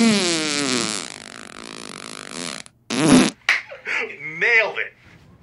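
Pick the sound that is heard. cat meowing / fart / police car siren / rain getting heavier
fart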